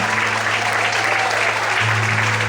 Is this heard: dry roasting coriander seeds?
no